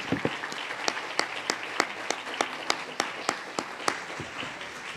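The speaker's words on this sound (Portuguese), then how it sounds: "Vamos aplaudir quem pode ao Senhor." A church congregation at a family worship service applauds, with individual claps standing out as sharp, fairly regular hits over a softer wash of clapping from many hands, steady for several seconds.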